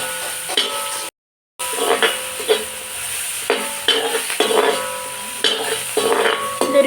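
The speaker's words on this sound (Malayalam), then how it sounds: "നന്നായിട്ട് ഇളക്കി വഴറ്റിയെടുക്കാം." Onions being stirred and sautéed in a pan while cooking ghee rice, with close, repeated scraping strokes over a steady sizzle and a brief silent break near the start.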